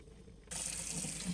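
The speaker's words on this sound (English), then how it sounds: "we'll rinse it with some hot water" Hot tap water starts abruptly and runs steadily, a close, hissing gush splashing into a pot in a sink.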